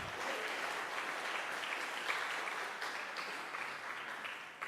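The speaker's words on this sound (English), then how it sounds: "Please give another applause for Mr." Audience applause at the Indonesia, India, Australia symposium on hydrogen metallurgy, a steady wash of many hands clapping throughout, moderately loud and fairly even before tapering at the end.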